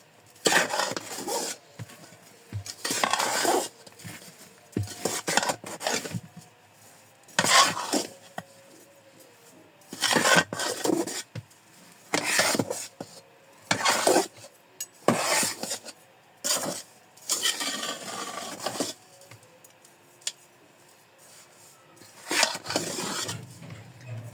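A spoon scrapes and clinks around a pot while ground flaxseed and dried fruit laddu mixture is mixed, in separate bursts of rough rubbing and knocking with quiet gaps between them, no speech.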